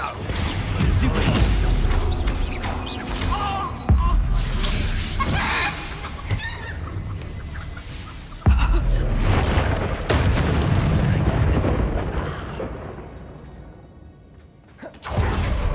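Repeated Expulso blasting spells in Hogwarts Legacy boom and shatter, with sharp blasts around four and eight seconds amid whooshing and rumbling combat noise, a voice occasionally heard beneath.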